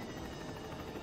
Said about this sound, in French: Ah, hélico de flic qui me tire dessus.